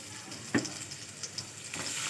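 Soft sizzling of ginger dropped into garlic frying golden in a pan, with a quick stir clink and a light hiss continuing briefly.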